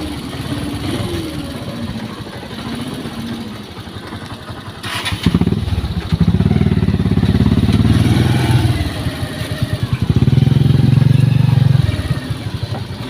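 A motorized tricycle rumbles along a rough road, its engine droning loudly while the body clatters and rattles over bumps.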